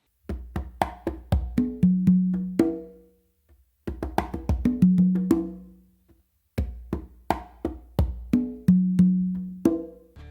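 A songo variation played by hand on three congas, running in three bars of quick slaps, taps and ringing open tones, each bar ending in a short pause, close and dry with no talking.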